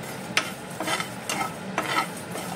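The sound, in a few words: roasting coriander seeds and spices in a pan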